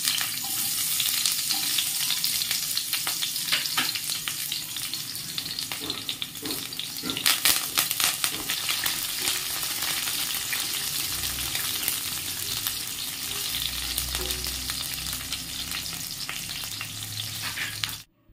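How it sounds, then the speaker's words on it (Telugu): Onions frying in hot oil as the base for a fish curry, a loud continuous sizzle with frequent scraping stirs from a spoon in the pan, close and without talk, ending abruptly. "దాంట్లోకి ఆయిల్ వేసేసి ఆనియన్ వేస్తున్నాను."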